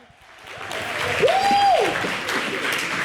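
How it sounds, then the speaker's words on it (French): A television studio audience applauds, rising from quiet into sustained clapping with a brief tonal sound in the middle, and no talking over it. "merci de les applaudir"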